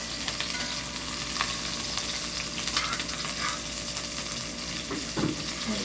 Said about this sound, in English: So while that's frying up